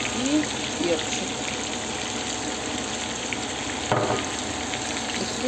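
Onion, carrot and pepper sizzle and fry in a pan, a steady crackling hiss with stirring scrapes and a short knock partway through, while a voice speaks faintly in the background.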